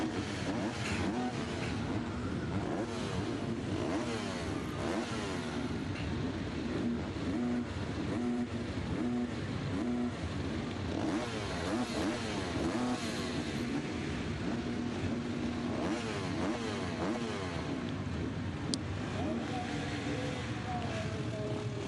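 MX2 motocross bikes rev at the race start lineup at Foxhills in Great Britain, a dense, continuous engine drone rising and falling in the distance beneath a commentator's ongoing talk.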